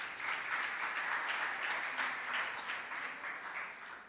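A church congregation at a Spanish-language worship service claps steadily in sustained applause, dense and even throughout with no voices standing out.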